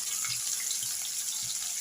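Sliced onions and green chillies hit hot oil after garlic has browned, for a rustic horse gram saru, giving a steady, close crackling sizzle with faint low pops throughout.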